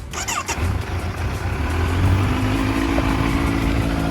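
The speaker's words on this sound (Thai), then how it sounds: "ฟังเสียงเครื่อง" Motorcycle engine with an Akrapovic slip-on exhaust and the stock mid-pipe still fitted, idling steadily with a low, even rumble after a brief sharper burst at the start, close by and with no talk.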